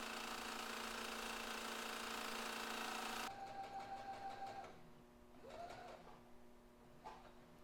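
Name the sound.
sewing machine stitching fabric sleeve lining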